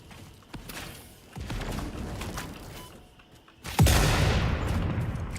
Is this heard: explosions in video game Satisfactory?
yes